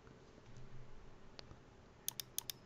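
Two crisp pairs of computer mouse clicks, close and sharp, snap out near the end after a quiet stretch with faint room noise.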